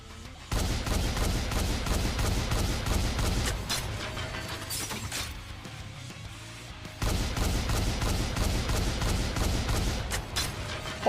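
Rapid-fire rocket launcher blasting in the shooter game NIKKE, a fast continuous stream of punchy launches and explosions, loud and dense, with a brief lull in the middle before the barrage resumes.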